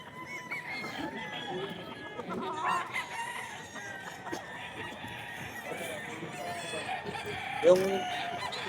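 Roosters at a Bocaue market stall clucking and crowing, a steady layer of fowl calls with a louder squawk near the end, under someone talking.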